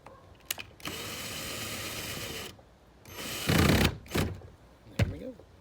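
A screw and nut are fitted onto a NV55 trolling motor mount on the bow of a 1436 jonboat. Close metallic scraping and ratcheting comes in bursts with a few sharp clicks, and it is loud near the end.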